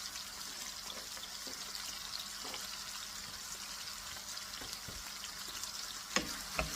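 Peppers and onions frying in a pan for baked loaded nachos, giving a steady bright sizzle throughout with a few louder pops and crackles near the end, close and without talk.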